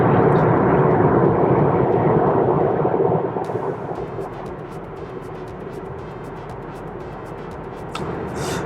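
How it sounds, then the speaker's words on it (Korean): Engine drone booms into the cabin of a Hyundai Kona SX2 small SUV while driving, a steady low rumble mixed with wind noise, loud at first and then settling slightly quieter. "아, 이거 엔진 소리가 울려 들어오는 거는 조금 거슬리네요."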